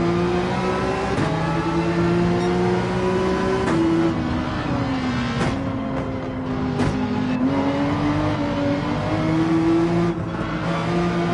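A race car engine in Gran Turismo 7 on the Nürburgring holds a loud, steady drone, its pitch rising and dipping slightly as the throttle is modulated, with no talk over it.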